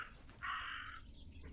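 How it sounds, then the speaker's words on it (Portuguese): A crow caws once in the Martha is Dead video game, a single drawn-out, moderately faint call standing alone against a quiet ambient background. "É o corvo do capiroto esse aqui,"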